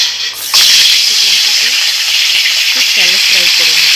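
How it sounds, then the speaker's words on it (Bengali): Chicken shallow frying in white oil in a kadai, a loud bright sizzle that surges in after a moment and holds steady, with a person talking faintly underneath. "চিকেনটাকে শ্যালো ফ্রাই করে নেব।"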